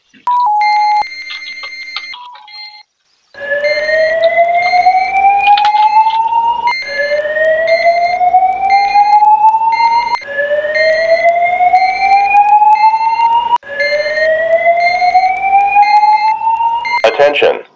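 A loud electronic fire alarm voice evacuation siren in a Roblox game sweeps upward again and again in a repeating whoop pattern, preceded by a short tone signal.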